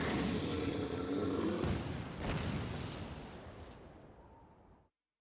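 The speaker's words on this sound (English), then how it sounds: "Load, aim, fire!" Gunfire volley in Final Fantasy XIV, a loud booming blast followed by a second heavy report, then a long rumbling decay that fades to silence.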